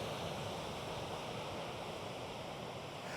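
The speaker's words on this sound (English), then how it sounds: "Just listening to the waves crash on the beach." Waves crash on the beach at La Bocana, Baja California, a steady loud wash of surf with no breaks and a wind-blown roar.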